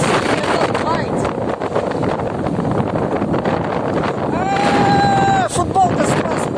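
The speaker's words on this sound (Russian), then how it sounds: "Ай, меня ветром сносит. Ветер все меня толкает." Strong sea wind buffets the microphone in loud, continuous roaring gusts, with a person's voice briefly heard through the noise.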